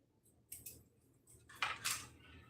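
Quiet, close scraping cuts of a blade slicing straight through a grip, several short strokes with the last two louder and longer.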